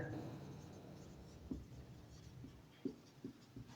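Quiet scratching strokes of a pen writing figures by hand on paper, a few soft separate marks against a faint room background.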